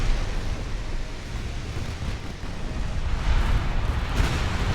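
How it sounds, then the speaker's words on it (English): A big torpedo salvo from warships in the naval game Ultimate Admiral: Dreadnoughts, heard as a steady, loud, rumbling wash of low explosive noise and roar that continues without a break. "Oh, that's a big torpedo salvo."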